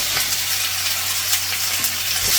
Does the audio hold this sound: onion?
yes